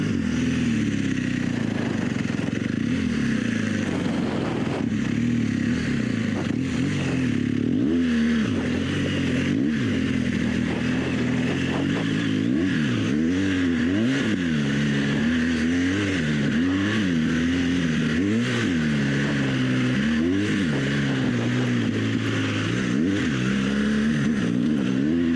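Adventure motorcycle on Michelin Anakee tires riding through a sand wash in enduro mode: a steady engine drone throughout, with repeated rising and falling revs as the throttle works through the sand, close and continuous, no talk.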